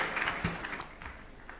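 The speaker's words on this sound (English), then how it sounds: "big round of applause for them" Applause from a summit audience for a panel that has just finished, a brief burst of clapping heard at moderate distance with a voice briefly audible over it.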